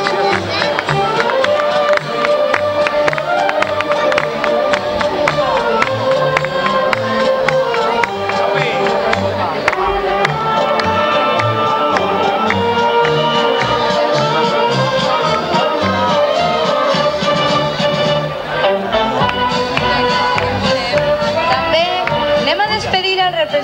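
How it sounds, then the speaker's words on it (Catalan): Loud, sustained applause and crowd noise at a 1996 Benissa festival presentation of pennants and officers, sending off the child pennant bearers, mixed with a continuous band playing throughout. "Anem a despedir en un fort aplaudiment"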